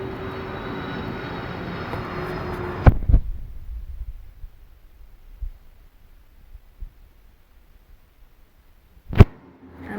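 An airplane passes close overhead near an airport, its loud steady engine roar filling the first three seconds before cutting off abruptly, leaving a quiet indoor room with a few soft thumps and a brief knock near the end.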